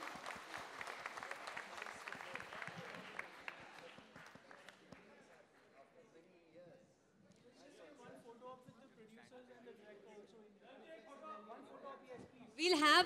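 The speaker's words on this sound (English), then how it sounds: "Give them a huge round of applause" An audience at a film trailer launch event applauds loudly for a few seconds, and the clapping thins out into crowd chatter and voices before another sharp burst at the end.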